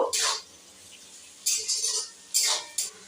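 Soaked raisins and cashews being stirred in a pan with a metal spoon, three separate bursts of scraping clinks close by, with quiet pauses between them.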